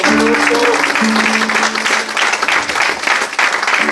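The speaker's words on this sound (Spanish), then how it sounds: "Denle un aplauso a Cristo en esta tarde." Congregation applause at a church service, a steady, dense round of clapping from many people, loud and continuous for the whole stretch, with a few faint voices and tones underneath.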